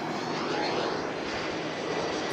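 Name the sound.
airplane flying overhead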